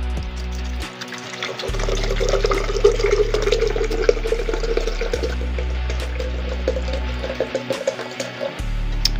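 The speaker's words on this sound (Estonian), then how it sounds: "võtame siis selle nagu asja, mis mul on siin vee jaoks ja hakkame siia vett sisse kallama" Water being poured into a Tea Glacé cold brew tea machine, a close, steady trickling and splashing stream over a low mechanical hum that cuts in and out.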